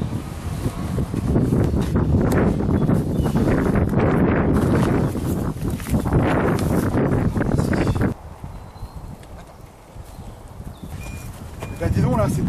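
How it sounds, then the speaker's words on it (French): Strong wind roars and buffets the microphone in heavy gusts, easing after a while, with a person talking through it. "Il y a du vent."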